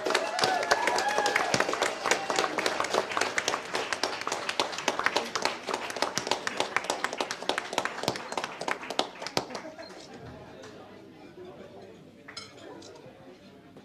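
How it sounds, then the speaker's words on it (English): A crowd at an Othello prize ceremony in Belgium claps in a dense, loud round of applause that runs for about ten seconds, then thins into scattered claps and fades as a voice begins. "I think they deserve a round of applause that's louder than anything we've heard in this room so far"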